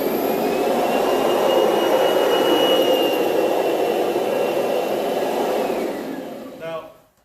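A Kirby carpet shampooer vacuums foam back up in a loud, steady roar of suction that holds for about six seconds, then fades and winds down.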